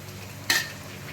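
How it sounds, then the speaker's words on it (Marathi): Chopped tomato drops into a pan of golden fried onions for a dry makul masala, giving one short sharp sizzle over a quiet, steady background hiss. "आता त्याच्यामध्ये टाकते मी एक बारीक टोमॅटो।"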